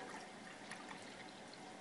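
Water poured into a cooking pot to make pickle brine for home canning, a soft steady pouring hiss lasting about two seconds, faint and close.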